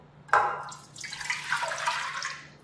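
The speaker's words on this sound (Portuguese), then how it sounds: "Então eu estou colocando aqui a água" Water is poured into a large pot for savory fried pastry dough, starting with a sharp splash and then running as a steady, bubbling gush that fills the pot at close range.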